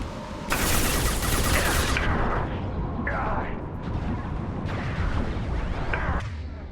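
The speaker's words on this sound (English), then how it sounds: "Yeah, I hear a flashbang." Flashbang and gunfire in the video game Mass Effect 2, loud bursts of firing and blasts with a dense rumbling bed, several sharp bangs in succession, no speech.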